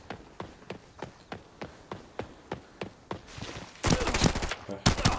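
A rapid, steady series of gunshots rings out in the video game Arena Breakout, the shots evenly spaced and striking heads. The firing ends in a louder, denser burst, with no speech.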